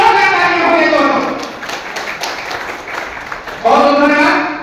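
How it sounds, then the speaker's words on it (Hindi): An audience applauds at a revolutionary journalists' council foundation day event in Jaunpur, with a dense, loud wash of clapping that fades as a voice speaks over it, then a new burst of talk near the end. "एक बार जोरदार तालियां हो जाए दोस्तों"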